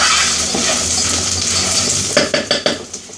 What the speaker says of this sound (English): Stir the potatoes.